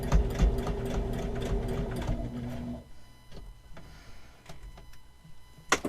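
A sewing machine runs in a steady mechanical chatter for a few seconds while stitching fabric leaves for a homemade Easter lily, then stops, leaving quieter scattered ticks and handling clicks.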